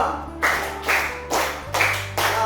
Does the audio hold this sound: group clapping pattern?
yes